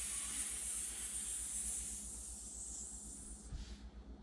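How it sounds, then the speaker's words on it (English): A person doing a yoga cobra pose lets out a steady, breathy hiss on the exhale. It lasts about three and a half seconds and then trails off. "Exhale, hiss it out."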